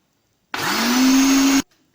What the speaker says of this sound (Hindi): हम 2-3 मिनट्स इसको ब्लेंड करेंगे।